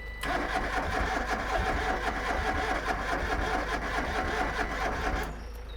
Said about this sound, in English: Take 2 cranks to get the fuel through.